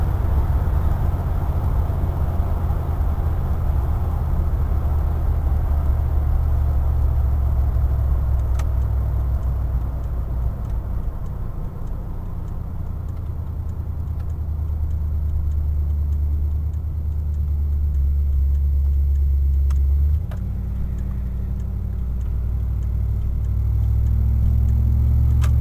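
A road vehicle cruising at about 75 gives a steady, close engine and road rumble for the whole stretch, with a brief dip and a change in engine tone near the end.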